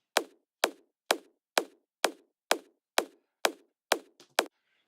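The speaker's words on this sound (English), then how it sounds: "it's just a little bit of a more natural click which sits over the other kick drum" A natural click kick drum sample, meant to sit over another kick, plays as nine evenly spaced, sharp, close hits, each dying away quickly, and ends with a quicker flam-like double hit.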